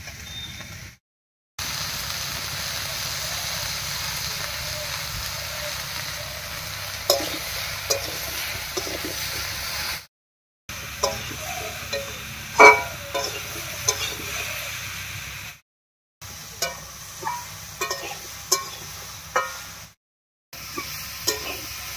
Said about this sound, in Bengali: পাঁচ 6 মিনিট মতো ফোড়নের উপরে সবজিটা দিয়ে নাড়িয়ে নিয়েছি।